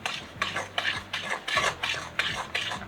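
Sticky gluten-free, dairy-free molasses cookie dough worked by hand in a bowl, a rhythmic series of about eight rasping, scraping stirs at an even pace, quiet and close with no talk.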